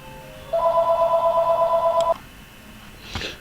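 Telephone ringing for an incoming call, one steady electronic ring burst lasting about a second and a half, followed by a faint clunk and quiet room tone.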